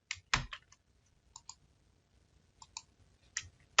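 Small computer mouse clicks sound in short pairs and singles, close and quiet, with a soft desk click or two and no talking.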